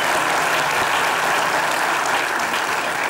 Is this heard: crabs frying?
no